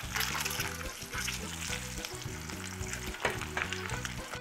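Eggs frying in a pan while pepper and salt are added, a steady loud sizzle with crackling spatters throughout, alone without talk, while preparing Alexandrian koshari topped with rolled eggs.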